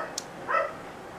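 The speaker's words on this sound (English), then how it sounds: "and you can hear the dogs outside" Dogs bark outside a house, heard as a short distant yap or two, faint and brief against quiet room tone with no talk over it.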